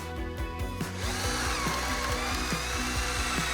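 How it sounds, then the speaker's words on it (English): A power drill boring a slanted tap hole through bark into a tree trunk for backyard maple sugaring, a steady whine with a repeating pulsing rhythm, close and continuous throughout. "We want to go in, try to clear the bark into a clear spot, and one drill in on a slight angle."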